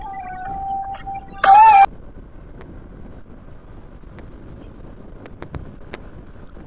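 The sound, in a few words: riding a vehicle on the road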